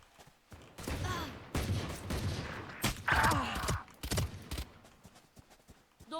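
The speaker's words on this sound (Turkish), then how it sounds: "Şerif var sende vur onu." Sharp gunshots crack in bursts during a tactical shooter video game, with several close, quick shots and scattered impacts over faint background game noise and occasional voices.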